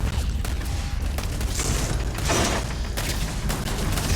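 Gunfire from the video game Starfield, set in a deserted robotics lab: a dense, continuous crackle of shots and booms fills the full few seconds at steady loudness, with no voice over it.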